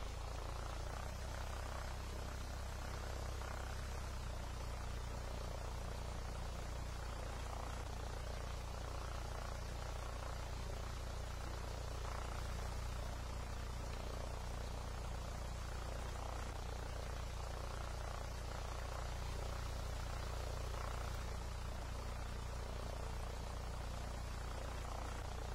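An airplane flies in the Roblox video game, its engine giving a steady, unbroken drone that stays level in loudness throughout, with no talking.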